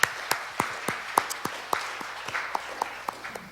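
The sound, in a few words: congregation applauding in church service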